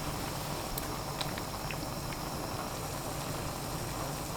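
Steady, dense bubbling roar of salted water at a rolling boil over high heat, blanching broccoli, continuous and even throughout, with faint higher clinks on top.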